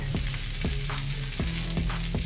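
Pork tenderloin searing in a hot pan, a steady close sizzle of frying with a few soft stirring scrapes, no voices.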